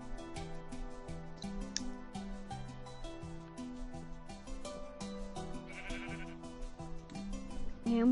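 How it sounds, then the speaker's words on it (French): Sheep bleat repeatedly over a steady musical background, the calls clear and recurring throughout, with no talking. "Il y a un mouton quand je fais 4 heures."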